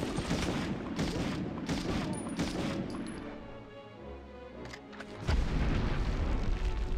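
Video game gunfire and explosions fill the stretch: dense bursts of shots and booms, loud and close, then a brief lull before a heavy blast resumes the barrage.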